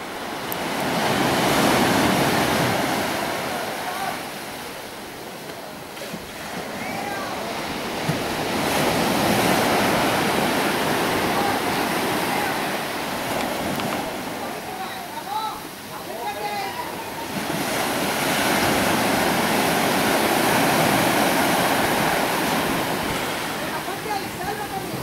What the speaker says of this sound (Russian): вы пока полюбуйтесь океаном